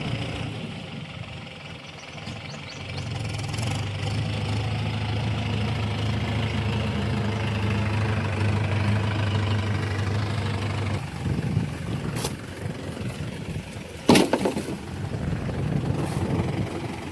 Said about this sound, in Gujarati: અહીંયા ચાલુ છે આપણું ટ્રેક્ટર